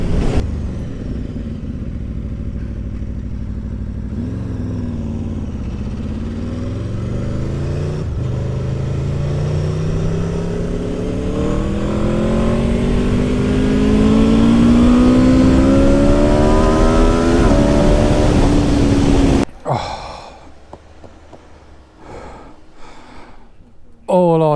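A 2021 Aprilia RSV4 1100 Factory motorcycle being ridden, its engine note climbing loud and close through rising revs for most of the run, then cut off abruptly into a quieter stretch with brief bursts near the end.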